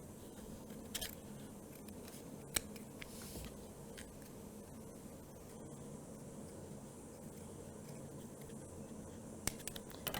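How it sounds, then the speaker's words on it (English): Scissors cut out a fabric doll pattern, giving faint, quiet snips and rustles close by against a low background. "scissors, we're going to cut out around close to the edge"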